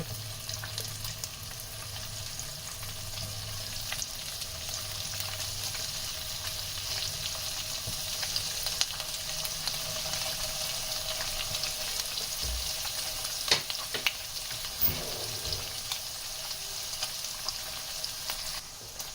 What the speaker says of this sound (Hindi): पहले हम पनीर को स्लो फ्लेम पे फ्राई करेंगे